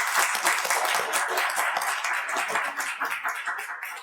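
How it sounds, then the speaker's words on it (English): Audience applause for visiting guests, including a member of parliament, at an international leadership event at Albany State University. Lively, close clapping continues throughout at a steady level and tapers off at the very end. "it is important that we give them a round of applause for coming here"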